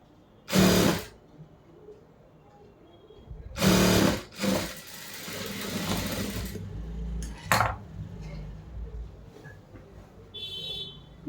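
A sewing machine stitches a churidar top sleeve in short bursts, a couple of quick whirring runs followed by a longer stitching stretch and a brief final run, with small clicks and handling noises between.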